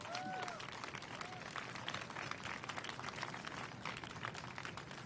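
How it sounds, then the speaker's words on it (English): A crowd applauds warmly at a Town Hall concert, dense clapping spread across the room, steady and continuous. "Nice warm round of applause, y'all."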